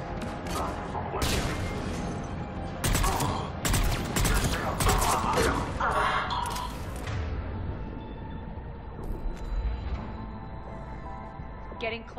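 Mass Effect 3 cannon fire booms in rapid bursts amid dense battle noise and mechanical clatter, with voices talking over the chaos.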